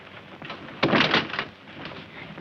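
A door rattles and thuds as someone tries to force it open, a sudden loud clatter followed by scraping and fainter knocks in an old film scene.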